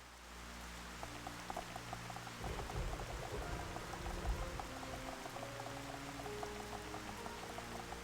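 Rain with a trickling, pouring quality, faint and continuous, with scattered droplet ticks and low steady hum underneath, a heavier rush swelling midway.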